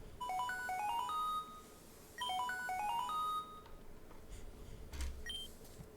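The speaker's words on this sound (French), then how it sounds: "je pense pas que ce soit le moment pour répondre au téléphone" A phone ringtone from the Pokémon Opalo video game plays a bright, repeating electronic melody in two clear phrases, followed by a few scattered beeps, fairly quiet and with no talk over it.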